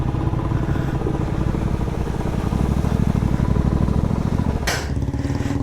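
A motorcycle engine chugs loudly and continuously at close range, a rough rapid pulsing as it is started and run, with a brief hissy burst near the end.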